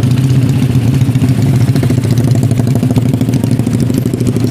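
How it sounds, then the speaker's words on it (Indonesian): Motorcycle exhausts drone loudly and continuously at night in a jammed street in Tanjung Uban, a close, steady low rumble with a faint rattling pulse and no talk. "Suara knalpot besar-besar."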